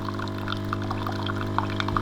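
Water rinsing through a Bosch Tassimo Joy coffee machine, a steady pouring trickle with small splashes and drips over a constant machine hum.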